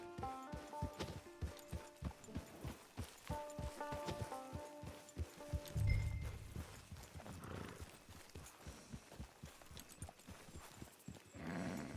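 Horse hooves clip-clop in a steady walking rhythm in Red Dead Redemption 2, close and moderately loud over a faint musical bed, with a brief heavier thump midway and no talking.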